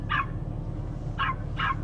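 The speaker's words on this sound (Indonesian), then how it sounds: "kirain dari mobil ini rupanya di luar ada guguk guys" A dog outside barks three times, short sharp barks heard from inside a BMW M4 Competition coupé over a low steady cabin hum, one bark and then a quick pair.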